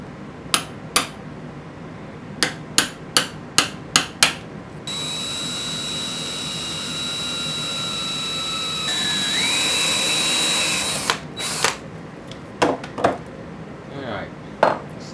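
A drill cuts holes in a metal end cap for a cascade cycle heat exchanger, loud steady whining that rises in pitch partway through, with sharp metallic taps and knocks before and after the drilling.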